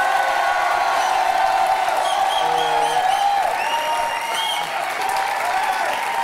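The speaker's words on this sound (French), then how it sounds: "On l'applaudit encore très fort, mes invités." A studio audience on the late-night French talk show La nuit nous appartient applauds the guests Jonathan Lambert and Fred Testot with steady, dense, sustained clapping that fills the room at an even loudness throughout.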